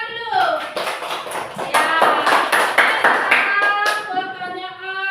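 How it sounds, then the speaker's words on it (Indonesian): A classroom of students clapping for a correct answer, a burst of sharp close hand claps with a brief spoken word and high voices threaded through. "tepuk tangan dulu"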